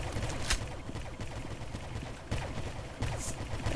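Rapid pistol fire in the video game Arsenal, a quick run of shots with a couple of stronger bursts, fairly quiet and steady with no talking over it.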